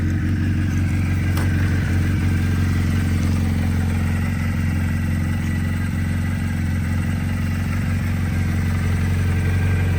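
A 1983 Suzuki XN85 Turbo motorcycle with a 4-in-1 exhaust idles steadily up close, a loud continuous low engine rumble with a faint mechanical clatter, with no talking.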